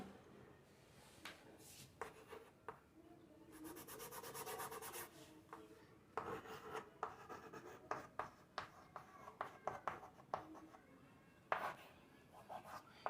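A pen scratches and rubs across paper while important points are written down for a physics lesson, giving quiet, irregular strokes with occasional sharper ticks and no talk.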